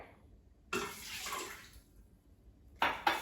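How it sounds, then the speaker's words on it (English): Water from a cup is poured into an Instant Pot pressure cooker's inner pot, a short splashing rush followed after a pause by two brief sharp splashes, close up with no talking. "I'm going to add 1 cup of water."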